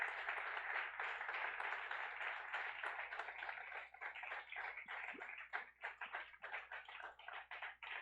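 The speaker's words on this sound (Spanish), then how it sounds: "Dele un fuerte aplauso a Papá Dios" Church congregation applauding during a service, a sustained burst of many hands clapping that thins toward the end into scattered claps, fairly distant and quiet.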